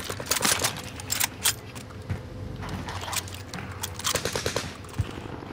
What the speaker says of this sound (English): What are you shooting at, MP?